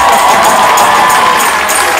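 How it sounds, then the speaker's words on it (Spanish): A crowd of people cheering and applauding together, a continuous dense roar of claps and voices that stays loud and steady throughout, with no clear talk over it. "¿puedes ver a esa gente que está aplaudiendo?"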